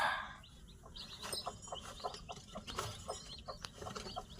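A hen clucks at a poultry farm, with high chick peeps scattered through a run of short, close clucks over a low background rumble.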